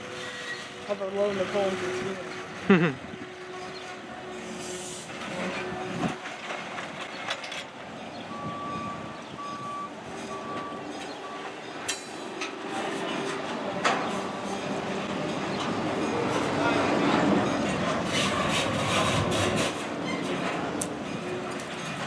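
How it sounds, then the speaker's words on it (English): Main Eastern 764 locomotive pushing two grain cars onto a railroad main line, with a steady rumble of engine and rolling cars, a brief sharp squeal early on, an intermittent warning tone, and louder rail noise building toward the end. "we then saw Main Eastern 764 pushing 2 grain cars onto the main line"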